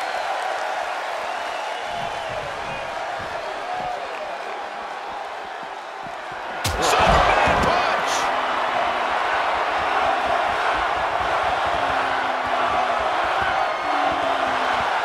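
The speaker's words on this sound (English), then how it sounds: "The sound of this crowd is deafening, and he's asking for more." A large arena crowd roars and cheers at a fight, a dense, loud sustained wash of voices that swells sharply partway through and stays loud afterward.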